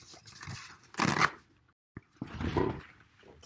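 A paper towel is torn off a roll in a kitchen while a baked potato is prepared, giving a close, brief rustling rip and papery crinkling with a short pause between bursts.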